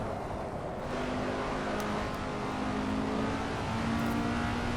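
A race car engine in Assetto Corsa holds a steady, loud drone at high revs with no one talking over it.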